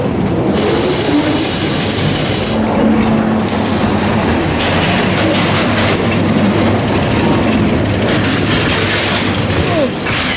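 A roller coaster car at Blackpool Pleasure Beach clunks and rattles down a lift hill, a loud, continuous mechanical rumble with heavy clanks and ratcheting along the track, heard close up.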